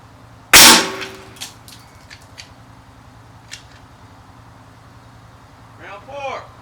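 A single sharp, loud crack from a Savage Mark II TRR-SR .22LR rifle fired at night, followed by several quiet metallic clicks and clacks of the action, then a brief voice near the end.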